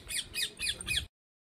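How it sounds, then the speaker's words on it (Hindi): A parrot at Chittorgarh fort gives four harsh, shrill squawks in quick, even succession, close and loud, then stops abruptly. "वो तोता बोल रहा है कि कोई आ गया"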